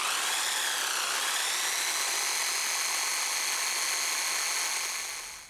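Power drill with a large auger-style bit running steadily at high speed, a bright sustained whine close by that dips slightly in pitch early on, then winds down at the end.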